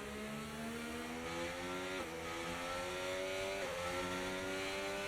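A Formula One car with a Mercedes engine in a racing video game screams at high revs, holding a steady whine with quick dips at gear shifts, loud and continuous with no talking.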